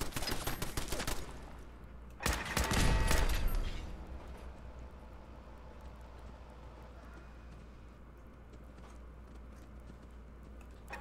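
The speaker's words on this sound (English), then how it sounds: "that was the sound of fully automated turrets" Fully automated turrets in the video game Fallout 4 fire loud rapid bursts, a dense volley at the start and another burst shortly after, then fading into a low, quieter background rumble.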